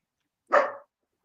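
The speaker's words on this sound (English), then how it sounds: "As my dog decides to start barking" A single short dog bark sounds alone at close range, sharp and brief against silence.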